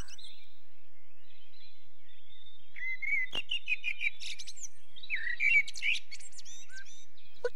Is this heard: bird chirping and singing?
yes